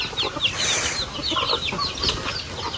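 Chickens cluck and chirp busily while being fed outdoors on a peaceful provincial afternoon, a close, steady chorus of overlapping calls with no pauses.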